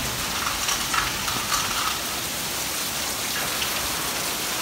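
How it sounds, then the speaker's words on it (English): Hail pours down steadily in a backyard, a dense, even hiss of pellets striking surfaces with a few sharper pings rising out of it, continuous and close throughout. "It's not even rain, it's hail."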